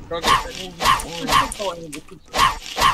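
Dog barking in the video game Roblox, a run of about six evenly spaced loud barks and yips, close and prominent, with voices talking around them.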